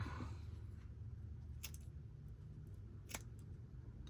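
Craft material being trimmed with scissors, two quiet, crisp snips over a low, constant room hum.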